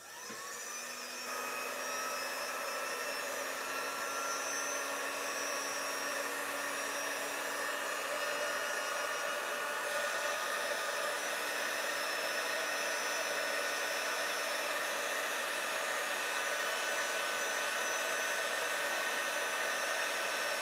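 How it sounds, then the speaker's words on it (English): A quick-dry heat tool blows steadily on wet chalk paste over burlap, giving a loud, unbroken whirring roar that holds for about twenty seconds. "Let's do our quick dry tool."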